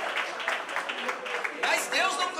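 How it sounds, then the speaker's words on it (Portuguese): Brief burst of clapping from a church gathering audience, ragged and mixed with voices talking over it, rising slightly louder toward the end. "Palmas para o meu amigo."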